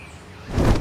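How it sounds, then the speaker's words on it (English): A short whoosh swells up midway and ends with a soft fluttering texture like flapping wings, brief and fairly close. "I combined a simple whoosh sound effect with the sound of birds flapping their wings."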